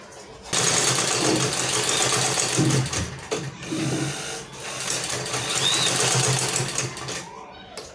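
Sewing machine stitching fabric for a child's ball dress with a peplum, a loud continuous whirring hum that stops briefly and resumes, heard close while a person talks over it.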